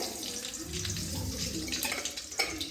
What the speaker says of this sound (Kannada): ಈಗ ಇದಕ್ಕೆ ನಾರ್ಮಲ್ ಒಗ್ಗರಣೆ ಮಾಡ್ಕೋತಾ ಇದ್ದೀನಿ